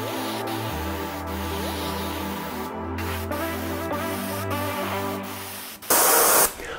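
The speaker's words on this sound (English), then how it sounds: "I've sprayed only a thin layer of white, that's enough." A short, loud burst of aerosol spray hisses as a thin layer of white paint goes onto a bike, near the end, following several seconds of steady tonal background sound.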